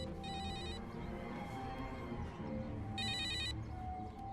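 A telephone rings in two short electronic bursts a few seconds apart, heard in a Bollywood film scene over a steady background hum.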